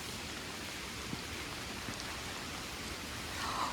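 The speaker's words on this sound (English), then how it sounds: "You hear the rain and the frogs?" Steady rain from Hurricane Helene falling near a pond and dammed stream, a dense, even hiss of drops with a few closer splashes and slight swelling toward the end, no talking.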